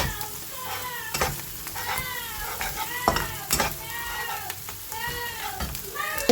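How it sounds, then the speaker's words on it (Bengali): Fish roe, onion and garlic frying with greens in a pan: a steady, moderately loud sizzle with stirring knocks, overlaid by repeated high, whiny squeaking tones that come and go. "আমার ডিমটা পেঁয়াজ রসুনটা ভাজা ভাজা হয়ে গেছে"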